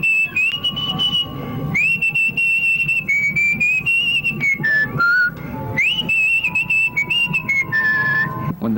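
A contestant at a whistling competition whistles a tune alone, clear melodic phrases with short breaths between them, loud and close.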